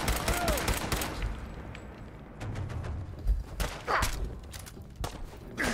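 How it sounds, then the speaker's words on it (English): Rapid bursts of gunfire from Fallout 4 crackle in close, uneven volleys, with heavy thuds and scattered single shots between the flurries. "I'm gonna shoot this guy"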